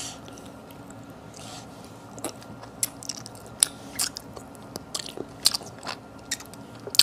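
Someone bites and chews softshell turtle meat up close, with soft wet mastication under sharp intermittent crunchy snaps that grow more frequent toward the end.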